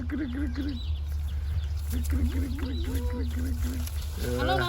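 A hen clucks repeatedly in short, rhythmic bursts at close range, with people talking over and around the sounds and outdoor background noise.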